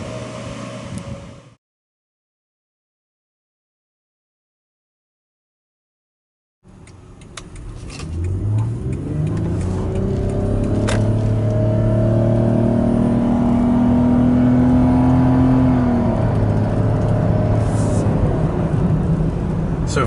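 A 2012 Toyota Highlander Hybrid Limited accelerating from 0 to 60 after a turn, its engine rising in a steady, building drone after a brief silence, with little talk.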